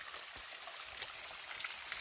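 A natural stream flows among ferns, oak trees and other plants, giving a soft, continuous hiss and trickle of water with no break, fairly faint and with no talk over it.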